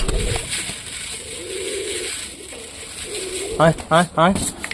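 Several soft pigeon coos with a low rolling throatiness, close by, over a steady background hiss; a few louder bursts near the end.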